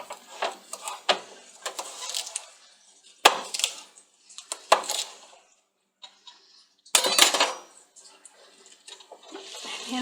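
Knife chopping cabbage into pieces on a cutting board, a series of sharp percussive chops in short bursts with pauses between, close and fairly loud.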